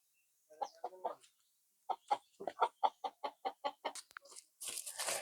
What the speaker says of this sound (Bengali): এই বড় খোপ থেকে মুরগিগুলা ধরতে অনেক কষ্ট, সেজন্য এই বস্তা দিয়ে তারপর ধরবো।